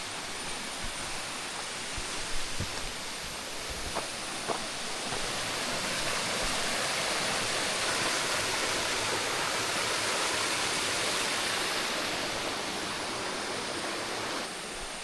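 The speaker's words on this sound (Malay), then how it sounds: "Ada air sungai betul-betul dekat tepi trek ni." A river stream beside a hiking trail on Bukit Madei rushes steadily and continuously, a broad hissing wash of water with no voices, holding nearly constant throughout.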